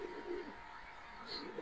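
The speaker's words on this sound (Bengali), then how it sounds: "শ্যাডেল রেসার মাদি কবুতর।" A female racer pigeon of the shadel type coos softly, with a few low murmuring calls spread over a short stretch against quiet background noise.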